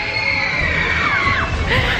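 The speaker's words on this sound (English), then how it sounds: "Screams of terror or screams of joy?" Crowd of riders screaming on a Disney World Magic Kingdom theme park ride, a continuous loud wash of shrieks and yells with a rushing, rumbling ride noise underneath.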